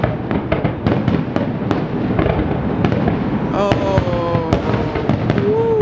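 Fireworks explode over Toronto Harbour on Canada Day in a dense finale barrage of booms and crackles, with whistling rockets rising; a person briefly exclaims.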